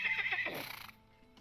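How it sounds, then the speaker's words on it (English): A basic-looking horse mount in the online game The Lord of the Rings Online gives a short, high, quavering whinny, with a faint hoof clop under it and then quiet. "Now we have our nice little super basic looking horse."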